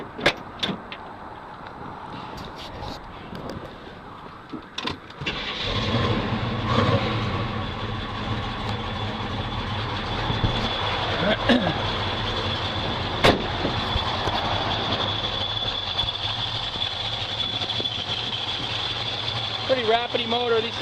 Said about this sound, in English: Go ahead and start this one up for you.